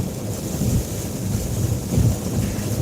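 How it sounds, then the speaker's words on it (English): Steady rain falling outside, a dense even wash of noise with soft gusty swells, no voices. "It's obviously raining out."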